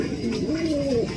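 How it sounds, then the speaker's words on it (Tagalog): A racing pigeon coos once, a soft low rolling call rising and falling over about a second, close by against a steady background hum. "gandang ibon pa naman itong kalapating to"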